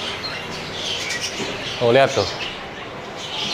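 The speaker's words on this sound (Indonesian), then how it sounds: "Suara-suaranya suara-suara burung." Birds chirp and call in a hotel mini zoo aviary at Eastparc Hotel, Yogyakarta, with a short burst of calls standing out over steady background noise while a person speaks briefly.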